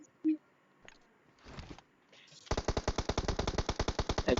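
Rapid automatic gunfire in a battle royale game rings out in a loud, sustained burst of evenly spaced shots, preceded by a few scattered single shots and clatter.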